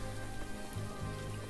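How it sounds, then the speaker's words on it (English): Steady rain falls in the video game Little Goody Two Shoes, a dense, even patter of drops hitting a surface, close and unbroken throughout with no voices. "I can't help but worry with all this rain."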